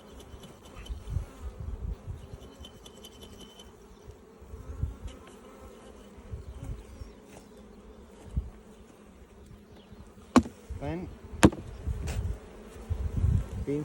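Honey bees buzz inside a jar during a mite check, a close, continuous low hum with scattered sharp clicks and knocks from handling the jar, and a brief voice near the end.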